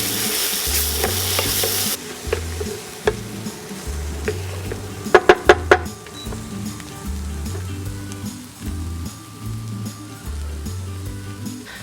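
Eggs stirred as they fry in a pan: a steady close sizzle runs throughout under regular utensil strokes, with a brief burst of sharp clicks partway through.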